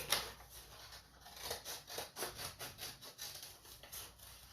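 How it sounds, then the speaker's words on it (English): Scissors snip through paper in a steady rhythm of short, soft cuts, repeated close up with no talking. "So I'm gonna take my scissors and cut out my butterfly shape."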